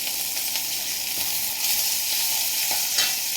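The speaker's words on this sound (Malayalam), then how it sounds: "നമ്മൾ ഇഞ്ചി പച്ചമുളക് വെളുത്തുള്ളി ഉള്ളി എല്ലാം ഇട്ട് കൊടുക്കുന്നുണ്ട്." Ginger, green chilli, garlic and chopped onion frying in a pan of oil with popped mustard seeds, a steady close sizzle and hiss with occasional stirring scrapes, no talking.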